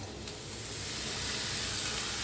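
Cucumber stirred into a masala of Kolhapuri red chilli powder and coriander powder in a hot pan, heard as a steady, fairly quiet sizzling hiss that swells slightly and holds throughout, with no talking.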